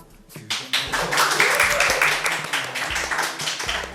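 A crowd breaks into steady applause, dense clapping spread across the whole stretch, fairly loud and close with a few voices mixed in.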